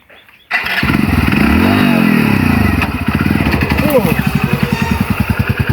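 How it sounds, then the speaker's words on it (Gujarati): A new motorcycle's engine kicks into life up close, revs, then settles into a throbbing idle while people talk over it. "નવું નવું બાઇક જુઓ"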